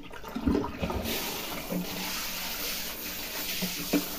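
Water rushing from a shower, a steady close hiss that swells after a faint start, with a few small knocks.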